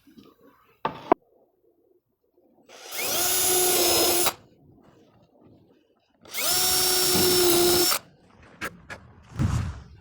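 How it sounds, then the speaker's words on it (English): A power drill bores countersink holes in wood in the garage: two loud sustained whirring bursts of about two seconds each, separated by quiet, with small knocks and handling clicks before and after. "I'm going to drill some countersink holes in the back and in the top"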